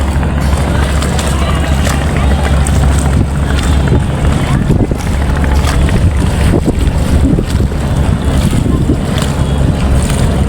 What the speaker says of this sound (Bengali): আমাদের নৌকা চলতেছে বুড়িগঙ্গা নদীতে